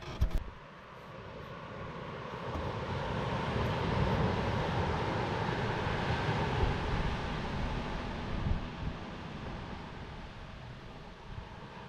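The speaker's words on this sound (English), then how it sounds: "But let's put the drone up first and see what we can see." A camera drone flies near a sunset camping spot, its droning whir swelling and holding steady at moderate distance, mixed with wind buffeting against the microphone and a few knocks at the start.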